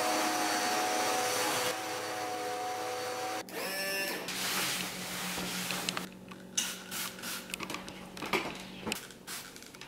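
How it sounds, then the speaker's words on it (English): A vacuum cleaner's steady motor whir running nearby, with pitch shifts and bumps as it moves, plus scattered clatter near the end. "I want to vacuum and mop and just wipe some things down"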